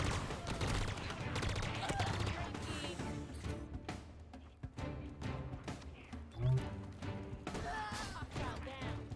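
Battle gunfire in the video game Halo Infinite, repeated sharp shots and bursts with a heavy thud partway through, loud and close over a busy combat din, with voices mixed in.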